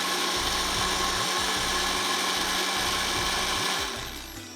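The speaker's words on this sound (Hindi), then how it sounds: "इसको अब हम ब्लेंड कर लेते हैं।" A blender grinds mutton katakat masala ingredients with a loud, continuous motor whine and rattling blades, then slows and fades near the end.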